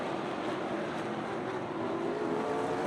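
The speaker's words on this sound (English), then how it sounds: "Drag race down the backstretch here at historic Rockford Speedway." Race cars drag down the backstretch at historic Rockford Speedway during an ARCA Midwest Tour event, a steady dense engine roar from a distant pack that holds constant, without talk.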